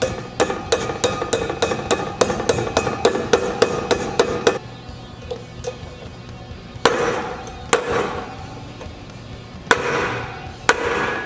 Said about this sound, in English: I'm going to knock this one bearing in, that I'm going to use the old bearing as a driver to push it in the rest of the way